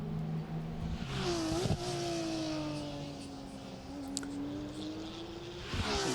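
Race car engines at the IMSA Road Race Showcase at Road America, a steady, loud engine drone with pitch shifts running throughout, brief sharp bursts near the start and end.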